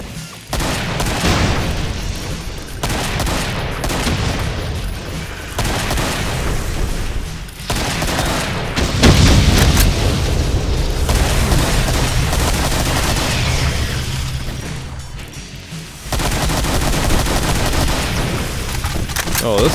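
Gunfire in the Project Brutality mod for Brutal Doom, loud sustained bursts of rapid shots and booms nearly continuous, with a player's voice talking over it at times.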